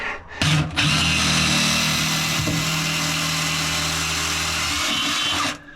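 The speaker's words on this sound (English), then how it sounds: "now, it's a countersink bit." Countersink bit drilling during the fitting of Samson posts on a sailboat, a loud steady power-drill whine running almost six seconds without a break after a brief start-up stutter.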